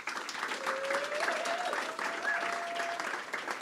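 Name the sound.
audience applause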